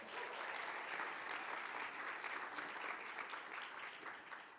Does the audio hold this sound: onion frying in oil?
no